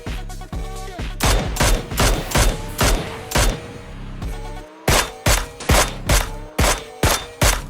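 Rapid bursts of PUBG gunfire, a dense volley at first and then evenly spaced loud shots, with background game music and effects.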